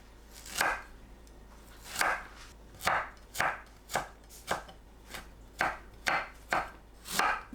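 Knife julienning chestnuts on a cutting board, giving about a dozen crisp, close chopping strokes in an uneven rhythm with no voices.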